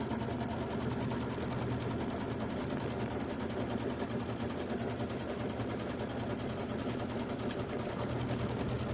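A sewing machine quilting on batting hums and clatters continuously at an even, rapid pace, close and steady throughout with no pauses.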